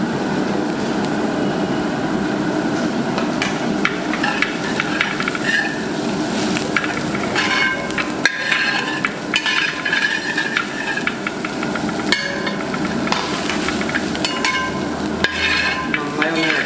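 Shark thoran with grated coconut is stirred in a frying pan, with steady sizzling and frying running the whole time and a spoon scraping and clattering against the pan, close and continuous.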